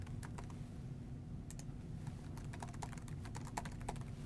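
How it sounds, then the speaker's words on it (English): Steady typing on a computer keyboard, with quick, close, light clicks in irregular bursts over a low background hum. "I'm just going to type the team name here"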